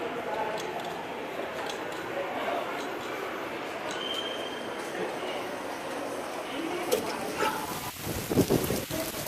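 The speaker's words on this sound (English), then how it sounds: "it would have stopped raining, but not so much" Steady rain hissing on surfaces outdoors on a windy night, a dense wash of noise with a few louder knocks and gusts near the end.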